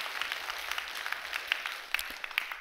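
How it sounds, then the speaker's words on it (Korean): A church congregation applauds during an evening service, soft and distant clapping that holds steadily through the short stretch with a few sharper claps standing out. "여러분 박수 한번 해주셔요."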